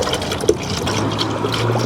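Coolant being poured from a jug into the cracked radiator of a Chevrolet Silverado 1500 with a 5.3 Vortec, a soft continuous trickle and gurgle close by.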